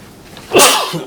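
A single sharp sneeze bursts out, close and loud, in an otherwise quiet room during a housing authority board meeting.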